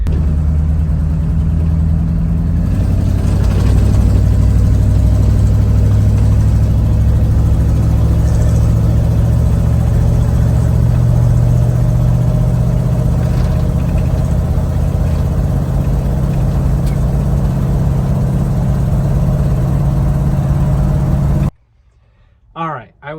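A 1973 Ford F250 truck engine runs steadily on a test drive, a deep continuous rumble holding close and loud throughout before cutting off abruptly near the end.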